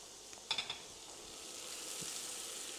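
Diced shallot frying in oil, a steady soft sizzle with a few brief stirring clicks near the start, continuous and fairly close throughout.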